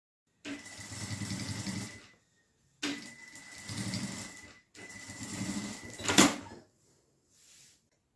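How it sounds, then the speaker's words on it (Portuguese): A sewing machine topstitches along the edge of a fabric phone wallet, running in three separate bursts of steady mechanical whirring, each a second or two long, with short pauses between them and a sharp clack near the end. "Eu vou passar uma costura de pesponto aqui nessa borda."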